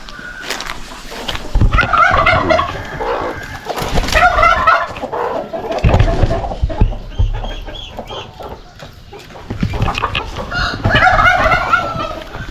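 A flock of chickens and turkeys on a rural school farm plot with crops and livestock, clucking and crowing in repeated loud bursts, with turkey gobbles mixed in close by.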